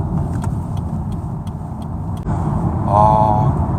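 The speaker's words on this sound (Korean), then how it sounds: "엑셀을 밟았을 때 저음은 아니지만 좀 고음의 낮은 그 엔진음이 들리는데요." A 2019 Lexus UX 250h AWD hybrid engine hums steadily from inside the cabin, rising in pitch and loudness as it accelerates, with road noise beneath.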